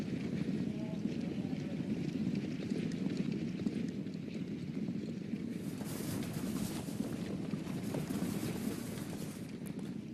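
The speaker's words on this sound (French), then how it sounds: "Et là est le 2 Collier d'Or qui galope en dernière position" Racehorses gallop through a horse race in Vichy, their hoofbeats a dense continuous drumming under wind noise and an ongoing race commentary voice.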